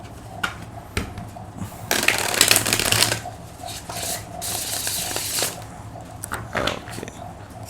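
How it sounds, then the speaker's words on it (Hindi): Tarot cards being shuffled by hand, close and crisp, with rapid riffling bursts and soft slaps of the deck over several seconds, no talking. "एक और कर लेते हैं शफल"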